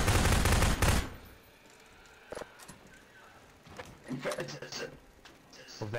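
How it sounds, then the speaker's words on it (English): Gunfire in the Garry's Mod video game: a loud, dense burst of rapid shots in the first second, then quieter sounds with scattered clicks and thumps. "He's shooting!"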